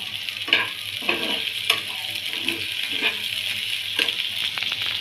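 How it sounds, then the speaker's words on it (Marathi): Chopped capsicum sizzles steadily in a frying pan with lightly cooked onions, close and clear, with several soft scrapes and knocks of stirring every second or so and no voices. "आता मी यात शिमला मिरची टाकते"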